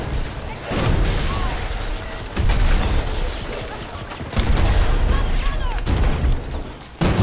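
Rapid bursts of VHX gunfire in a first-person shooter game, fast fire rate, loud and dense in several sustained volleys with brief gaps, mixed with background game noise and a talking voice.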